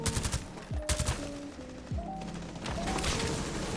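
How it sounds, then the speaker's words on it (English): Gunfire in the video game Rainbow Six Siege: a quick burst of shots at the start, then more scattered rapid fire with mechanical clicks, fairly quiet overall. "he's shooting you"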